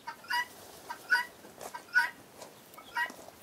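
Domestic chickens cluck in short, irregular bursts at a ranch mini-zoo, four or five soft, moderately distant calls over quiet rural background.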